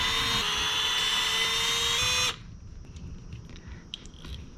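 A powered driver unscrewing 2.5 mm screws from an RC truck chassis (Traxxas Rustler 4x4 VXL) whirs in a loud, steady high-pitched whine for about two seconds, then stops, leaving faint small clicks and handling noises.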